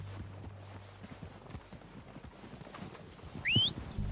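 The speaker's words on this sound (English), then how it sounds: "They're coming down with the horses." Horse hooves clip-clopping softly at a distance in Red Dead Redemption 2, faint and steady under quiet ambience, with a brief whinny-like call near the end.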